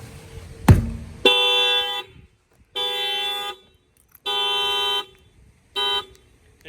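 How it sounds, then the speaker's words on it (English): Honda Civic car alarm system going off: a short knock, then four loud, evenly spaced horn blasts with silent gaps between them, the last one shorter. "If they try to break a window, they try to bust out the keyhole, that will fire off the alarm system as well."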